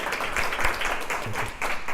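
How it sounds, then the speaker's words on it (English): A short burst of audience applause fills a business lecture room, with the dense patter of many hands clapping close by. "Round of applause for John"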